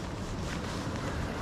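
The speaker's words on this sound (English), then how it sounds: "the wind's picked up a bit" Wind blowing hard across a winter sea coast while fishing for cod, a dense continuous roar of gusting air and microphone buffeting with no pauses or voices.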